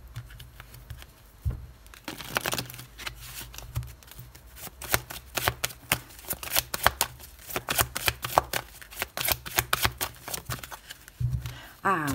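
Angel oracle cards being shuffled by hand, with a steady run of quick riffling and slapping bursts close to the mic, and someone speaking briefly near the start and end.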